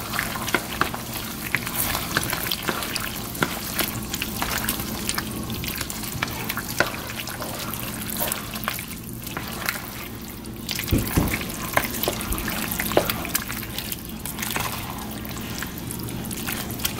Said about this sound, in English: let's go ahead and stir all this in